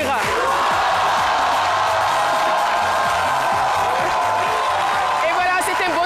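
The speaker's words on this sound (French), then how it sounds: "Vous pouvez vous applaudir." An audience in a studio hall claps and cheers loudly and steadily, a dense wash of applause and whoops that fills the whole stretch, with a voice talking over it.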